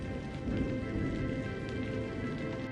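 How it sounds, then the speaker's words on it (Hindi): Heavy cartoon rain pours down steadily in a dense, even hiss with no break, moderately loud and without speech. "अब ये बरसात कब थमेगी, भगवान ही जाने।"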